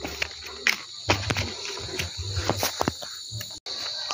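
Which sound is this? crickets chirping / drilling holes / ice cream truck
crickets chirping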